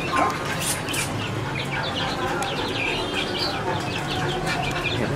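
Chickens in an indoor pet room cluck and squawk in scattered bursts over a busy, continuous background of rustling and movement, fairly close, with no clear speech.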